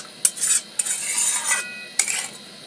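A spoon scrapes and clinks around a pot of gule fish curry with potatoes and freshly added water, in three or four distinct stirring strokes with metallic knocks, close and without talk.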